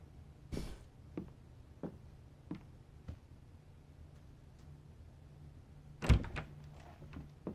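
A door in the video game Life is Strange True Colors, with a few soft knocks or thuds spaced apart and then one sharp, louder bang near the end, set against a quiet background.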